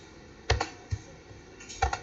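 Keys on a computer keyboard are pressed for a Ctrl+F2 shortcut while programming in Delphi, giving a few soft close clicks in small clusters, with no talk.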